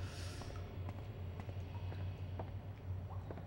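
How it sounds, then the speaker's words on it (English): A creaking rocking horse in the video game Manhunt 2 rocks back and forth with soft, regular knocks over a low, steady ambient drone. "That's a bit creepy, that rocking horse"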